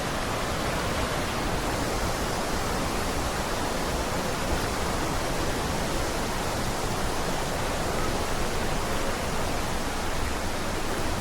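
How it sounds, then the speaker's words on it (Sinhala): Duwili Ella waterfall in Sri Lanka's southern hills flowing, a dense, steady roar of falling water that fills the scene evenly and continuously, with no talk. "ඉතින් දූවිලි යල්ල වතුර පාරක් ගහගෙන යනවා."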